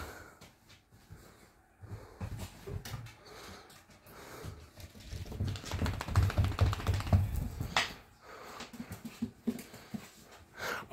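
A dog moves about restlessly after a walk, with soft scuffles, taps and pawing sounds, a few sharp bark-like bursts and louder rustling in the middle, close to the microphone and without any talking.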